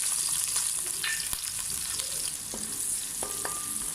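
Bay leaf, chopped onion, green chili and ginger-garlic paste frying in oil for a chicken masala curry, a continuous close sizzle with occasional utensil clinks and scrapes.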